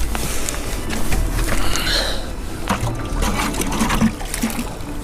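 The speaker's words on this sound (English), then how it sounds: "So we're gonna put some water in our bucket" Water from the Flathead River trickles and splashes into a bucket during fall whitefish fishing, a steady uneven dribble with scattered splats and outdoor background noise, no talk heard.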